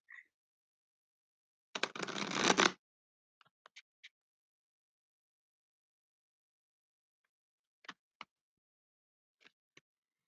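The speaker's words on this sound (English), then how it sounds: "I'm going to do one more shuffle, and then I'll pull out the cards." Tarot cards are shuffled in one brisk riffling burst lasting about a second, followed by a few soft isolated taps and clicks of cards being handled in an otherwise quiet room.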